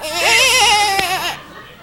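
A voice imitates a goat's bleat, a loud, wavering, quavering cry about a second long that cuts off abruptly, delivered alone during a French-language television talk show.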